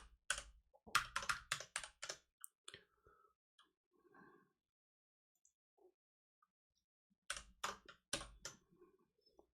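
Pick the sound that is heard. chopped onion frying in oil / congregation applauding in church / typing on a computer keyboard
typing on a computer keyboard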